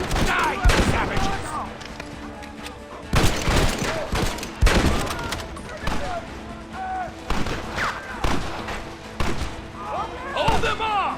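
Gunfire in a Red Dead Redemption shootout, bursts of loud rapid shots and volleys with brief lulls between them, while voices shout over the fighting.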